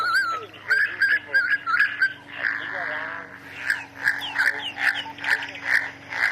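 Birds calling at sunrise in the Sabi Sand wilderness, repeated whistled and warbling notes in short bursts over a low steady hum, with some faint sounds resembling voices in the background.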